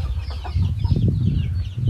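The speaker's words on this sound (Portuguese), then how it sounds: "Só as galinhas caipira." Free-range chickens cluck on a farm in a steady, close cluster of short calls over a low rumbling background, with no talking.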